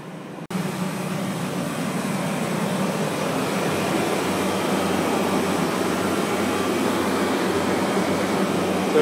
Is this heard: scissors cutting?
no